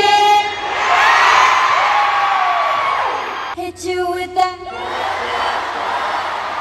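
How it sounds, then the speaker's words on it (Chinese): A concert crowd at a show in Kaohsiung screams and cheers loudly and steadily, with high shrieks rising over the roar and a brief choppy patch midway. "整场尖叫声没停过"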